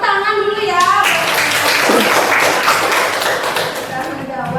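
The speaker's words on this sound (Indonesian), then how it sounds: "sekarang tepuk tangan dulu ya" A classroom of students clapping together on the teacher's cue, a dense burst of hand claps filling several seconds before fading out near the end.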